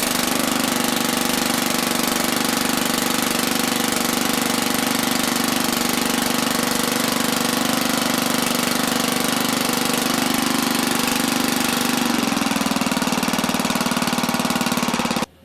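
A Briggs & Stratton Intek OHV slant-cylinder small engine, freshly running after a carburetor rebuild, drones loudly and steadily up close, its pitch shifting slightly near the end as the throttle settles.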